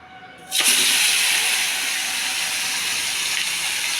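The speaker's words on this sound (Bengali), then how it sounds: "এবার ভাজবো মাছটাকে" A loud, steady sizzle bursts in suddenly as fish hits a very hot wok, then continues as a constant hissing fry.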